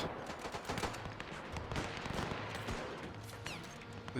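Machine gun fire in the WW1 strategy game Between Empires, a steady, fairly quiet stream of rattling shots blended into a busy battlefield din.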